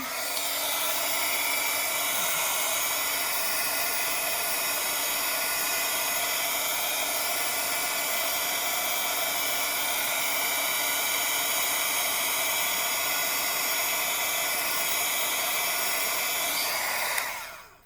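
A hair dryer blows on craft paper in one loud, unbroken roar that lasts nearly eighteen seconds and then cuts off.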